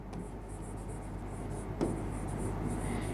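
Marker or chalk writing on a board during a classroom lecture, faint continuous scratching strokes with one brief tap, over steady low room hum.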